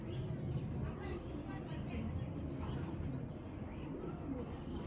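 A racing pigeon of Belgian blood coos softly in a loft, low throaty rolling calls repeating under near continuous talk.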